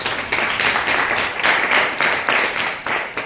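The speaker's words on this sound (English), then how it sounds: "Clap for yourselves." A classroom of Grade 9 students claps for themselves after a maths answer, a loud, dense burst of hand claps pulsing in waves for a few seconds, with no talk over it.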